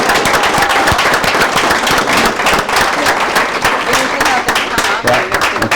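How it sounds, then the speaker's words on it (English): Loud, dense applause from an audience at a meeting for awardees, sharp rapid claps close to the microphone throughout, with faint voices mixed in. "Let's give another big round of applause for our awardees."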